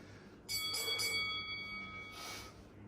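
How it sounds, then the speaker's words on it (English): Workout timer bell during a bodyweight strength routine, ringing out with sustained metallic tones that start sharply, fade, then sound again more faintly near the end, over a quiet room hum. "Ignore this bell."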